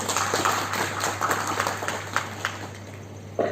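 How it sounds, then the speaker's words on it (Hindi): An audience at a yoga day celebration in Shimla claps for schoolchildren, producing a steady moderate patter of applause with a few sharper claps. "इन प्यारे प्यारे बच्चों के लिए जोरदार तालियां"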